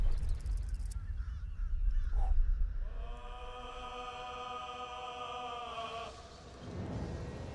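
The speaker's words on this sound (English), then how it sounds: "Do you hear beautiful, beautiful birds?" Birds in Baldur's Gate 3: after some rustling ambience, a sustained honking, goose-like call rings out for about three seconds, then fades into soft background noise.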